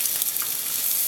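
French toast sizzles steadily in a pan, a continuous close frying hiss with no talking.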